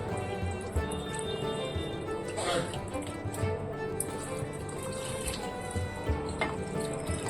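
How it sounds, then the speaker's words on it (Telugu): Water pours steadily into a pot for a mud crab curry for several seconds, a continuous splashing rush with faint clinks, fairly close. "ఇగోండి కొన్ని వాటర్ని యాడ్ చేస్తున్నాను"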